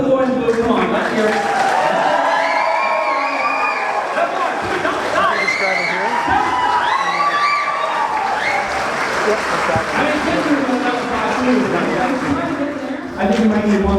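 A large crowd cheers and claps steadily for the Stanley Cup at a public appearance, a dense, continuous wall of applause and voices that holds without a break.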